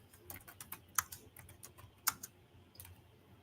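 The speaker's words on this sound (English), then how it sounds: "I was typing, y'all." Keyboard typing, sparse and fairly quiet, with irregular keystroke clicks and a few sharper, louder taps spread across a soft background hum.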